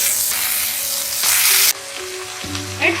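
Finely chopped methi (fenugreek) leaves drop into oil with sizzling garlic and roasted green chilies, a steady loud fry that flares briefly and then settles into a softer crackle, with no voices.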